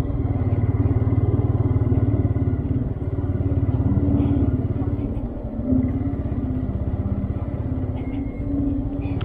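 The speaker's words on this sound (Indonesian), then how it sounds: "Kita ngikuti motor di depan itu" A motorcycle riding on a campus road during a graduation event, its steady engine rumble and road clatter heard continuously from a vehicle following close behind.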